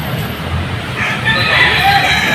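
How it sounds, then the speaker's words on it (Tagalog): Fighting roosters and chickens kept in a town plaza in the Philippines cluck and crow nearby, with a loud crow rising over a busy outdoor background. "Ayan, mga manok."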